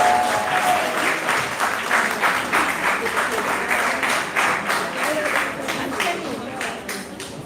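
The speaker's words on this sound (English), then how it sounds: "Give them a round of applause." Audience applause at a pre-K school leaving ceremony, a steady, fairly loud wash of many hands clapping for several seconds, gently fading toward the end.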